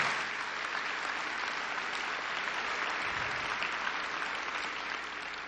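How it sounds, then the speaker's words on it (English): Applause from a conference audience of police chiefs in Florida, a steady dense wash of many hands clapping at moderate distance, sustained and even throughout with no voices over it. "give him a big round of applause for all of our police chiefs in Florida"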